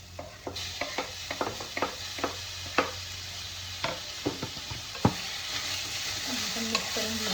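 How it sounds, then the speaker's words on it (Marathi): Chopped tomatoes are stirred into golden-brown frying onions for a spinach and black chickpea masala: a steady sizzle under repeated sharp spoon scrapes and taps against the pan in an uneven rhythm, close and fairly loud, with no talking. "आता ह्यात आपण टाकू कट केलेले टोमॅटो"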